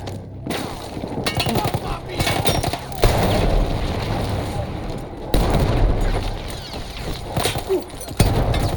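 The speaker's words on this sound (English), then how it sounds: "That explosion was one of the sweetest sights of the war for me." In the Battlefield 1 war game, a gun emplacement is blown up, with heavy booming blasts and rolling rumble alongside crackling gunfire, loud and dense throughout with repeated sharp impacts.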